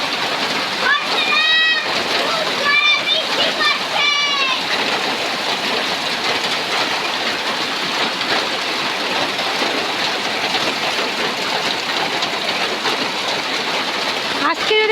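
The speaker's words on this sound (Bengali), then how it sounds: "দেখুন বন্ধুরা কত জোরে বৃষ্টি পড়ছে।" Heavy rain pours down in a dense, continuous roar and splatter, loud and close, near a kitchen. Brief tonal chirps at the start suggest birds or a voice over the downpour.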